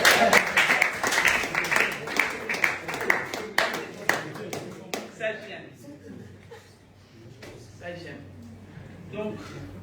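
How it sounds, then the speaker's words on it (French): A church congregation claps and applauds loudly at a French-language service, rhythmic clapping mixed with cheers and laughter that fades to scattered claps and murmuring voices. "Acclamons pour l'autre."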